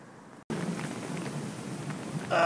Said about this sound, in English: we're off again with the snow and the rain and the wind